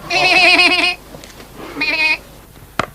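A goat bleats loudly twice, a long wavering cry then a shorter one, close up, followed by a sharp click.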